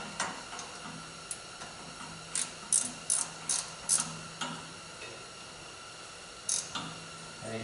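A ratcheting wrench works on the injector pump of a Big Cat generator set, giving close, quiet pawl clicks in uneven bursts, a cluster of sharper ticks in the middle, then a lone click after a pause.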